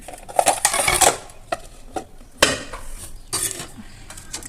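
Food being moved onto a plate, with a run of close, loud metallic scrapes and clinks of utensils against dishware, clustered bursts separated by brief pauses.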